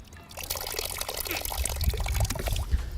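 Water pushed back out through a LifeStraw personal water filter, a close, steady pouring and trickling stream of liquid that runs continuously and grows slightly louder, with no talk over it.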